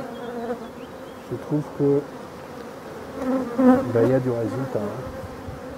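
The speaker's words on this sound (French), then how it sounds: "Les abeilles sont belles." A large honeybee colony, newly formed from a swarm, hums with a steady dense buzz during a traditional beekeeping hive visit, swelling louder toward the end while a person talks over it.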